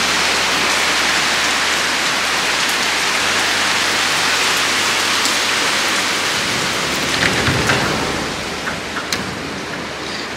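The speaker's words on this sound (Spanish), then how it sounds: "Está diluviando en este momento." Heavy rain pours down in Canggu, Bali, a loud, dense, continuous hiss of water hitting surfaces, with a few sharper drips and splashes near the end.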